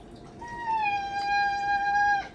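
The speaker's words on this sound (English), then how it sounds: "One of my cats is now shouting at me" A house cat lets out one long, drawn-out meow, fairly close and clear over a quiet indoor background.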